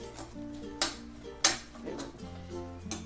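Okra curry being stirred in a pan, with a few spoon scrapes and clinks against the metal over a faint steady background tone, quiet and close.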